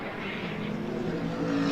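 Aston Martin Vulcan race car at Silverstone, a steady engine roar at racing pace heard at a moderate distance and swelling slightly toward the end.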